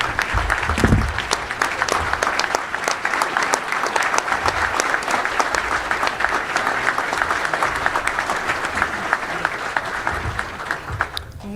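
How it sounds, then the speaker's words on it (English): An audience at a Little Rock Touchdown Club luncheon applauds an award-winning high school player, a dense, even roar of clapping hands sustained for several seconds at moderate loudness. "Let's give him a round of applause."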